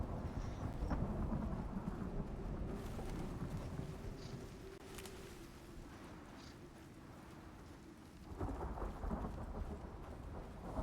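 A violent superstorm in the survival video game Icarus rolls on with steady heavy rain and long deep thunder rumbles, brief sharper cracks rising out of the downpour before a fresh surge of rain near the end.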